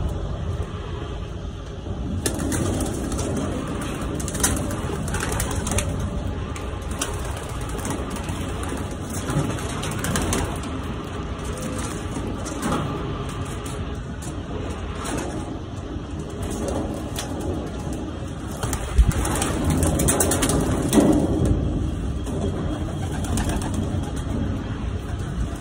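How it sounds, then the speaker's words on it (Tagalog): Belgian racing pigeons in a loft, a steady murmur of soft cooing and fluttering under constant background noise, close and continuous throughout. "Ito yung ibon din ni Mentor mga kalapats"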